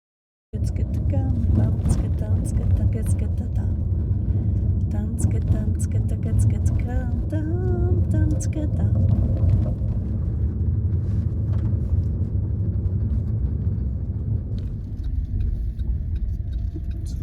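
Strong wind blows across a campsite at the Kiamika reservoir, a steady, loud low rumble of gusts buffeting the microphone for the whole stretch, with voices faintly mixed in.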